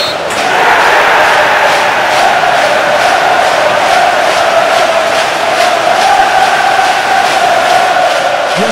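A studio crowd cheers and roars steadily, loud and close, holding an even wall of noise from start to finish with no talking over it.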